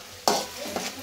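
Spice paste with salt is stir-fried in a pan: two quick scraping stirs cut through a soft, close sizzle.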